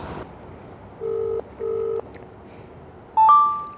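Phone keypad tones sound while a call is placed on New Year night in Mumbai: two steady dial tones, then a brighter louder burst of beeps, over constant outdoor wind and background noise.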